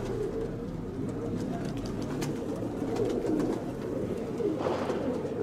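Racing pigeons coo at a pigeon club's flying festival in Volos in 2017, with soft, repeated low calls that overlap close by against a quiet background.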